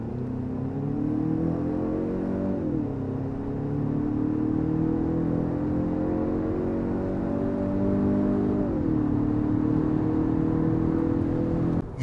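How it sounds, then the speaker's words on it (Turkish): A 2024 Kia Sportage mild hybrid 4x4 under hard acceleration, a loud cabin engine drone that climbs steadily in pitch, drops with two quick gear changes, and climbs again for about twelve seconds. "aracın hızlanmasının, motorun sesinin gayet güzel olduğunu söyleyebilirim"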